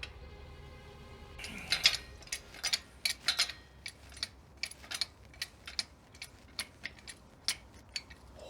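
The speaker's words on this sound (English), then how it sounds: "Turn the handle counterclockwise 3 full turns." The handle of a tire changer's release valve is turned, giving a series of sharp metallic clicks and ratcheting ticks in an irregular rhythm, close and fairly quiet over a near-silent background.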